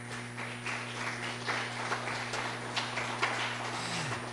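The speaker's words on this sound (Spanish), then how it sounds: "Dale un aplauso a Jesucristo." Church congregation applauding during a Spanish-language sermon, a steady wash of clapping with a low electrical hum running underneath throughout.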